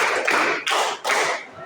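A class of children performs a counting clapping game, producing three bursts of loud, crisp group claps in quick succession, each burst a dense cluster of hand strikes, close and without talk.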